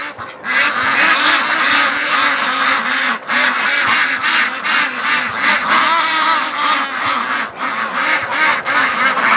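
Muscovy ducks in a breeding flock outdoors in spring, giving a dense, continuous chorus of loud, overlapping calls and honks that runs without pause from start to finish.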